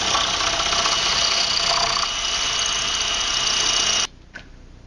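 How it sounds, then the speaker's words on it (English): A masonry bit bores through concrete after passing through a wooden stud during a basement door installation, giving a loud, steady grinding drone for about four seconds before cutting off abruptly, followed by a faint brief knock. "Now we're drilling through concrete."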